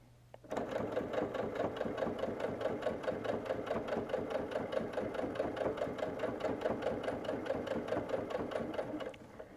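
A hand-crank sewing machine stitches a four-patch quilted coaster in one steady, rapid run of even clicking stitches, close and continuous for about nine seconds before stopping.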